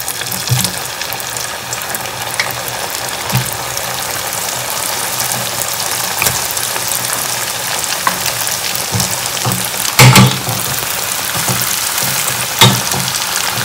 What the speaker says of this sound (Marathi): आणि मस्त अशी फ्राय करून होते छान गोल्डन फ्राय